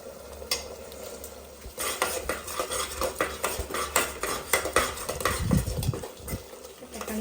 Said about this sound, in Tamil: பச்சை மிளகாய் புதினாவோட வாசனை போகிறதுக்காக நம்ம கொஞ்சம் நேரம் வதக்கிக்குவோம்